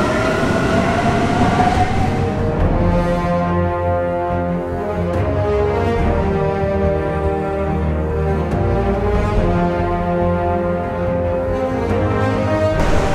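Metro train in Rome running close and loud, with a steady rumbling drone and rising and falling whining tones from the motors, continuous with no talking.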